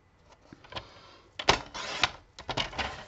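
Paper scraps for a Christmas scrapbook mini album being cut to 9.5 by 14.5, several close, dry slicing and scraping bursts with short pauses between, no talk.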